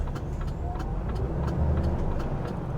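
A car rushes past on a road near a heavy goods vehicle early in the morning, its engine and tyre noise steady and fairly loud throughout, with a low rumble underneath.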